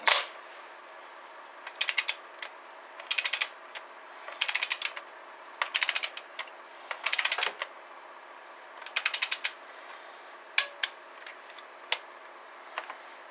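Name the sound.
ratchet tightening Cummins injector bolts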